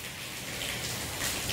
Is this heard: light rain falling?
yes